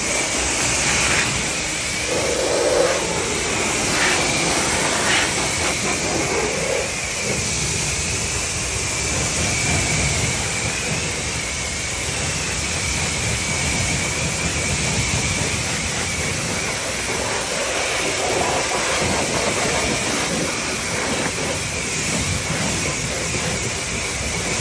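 Water sprays steadily onto car tires during a rinse after scrubbing, a continuous loud hiss and splatter that runs throughout without pause.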